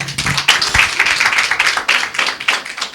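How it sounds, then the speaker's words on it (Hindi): A congregation claps after a Christian prayer at a church gathering, a steady round of many hands applauding continuously for the full three seconds, fairly loud and close. "ओके, एक अच्छी ताली।"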